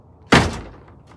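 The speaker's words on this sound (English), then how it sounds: "The door closes very smoothly." A Honda CRX car door swings shut with a single solid thunk, close and fairly loud, followed by a brief fading rattle.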